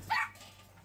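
A single short puppy bark or yip rings out close by at a pet market selling breeds such as Pomeranians, pugs, golden retrievers and corgis, followed by quiet background.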